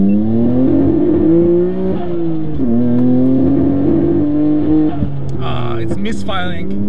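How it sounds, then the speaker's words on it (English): A Nissan Skyline GT-R R32 engine misfires as it revs and pulls through the gears, its drone stuttering and breaking up unevenly, loud and close, with a few sharp pops near the end. "the car seems like it's misfiring and I really don't want to push it."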